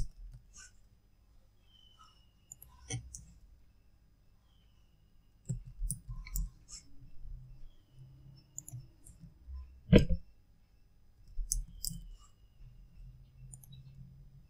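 Scattered computer mouse clicks, single and double, sound close and sharp over near silence, separated by irregular pauses.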